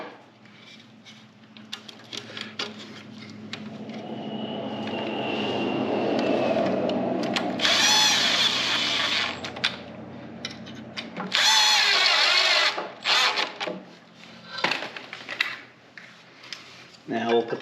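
A power tool driving carburetor bolts into a small engine's rebuilt carb, with bursts of whirring at close range, a longer run mid-clip and shorter spurts after, while a person talks quietly in between.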